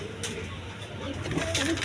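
Pigeons for sale, including a pair of blackless shirting pigeons, give soft, low cooing calls in a loft, close by, with a few brief rustles and faint voices in the background.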